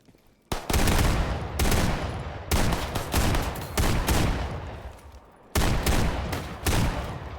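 Desert Eagle .357 Magnum gunfire in a video game: loud, sharp shots crack out in quick clusters after a short quiet start, with brief pauses between bursts and a final fast volley near the end, no voices over them.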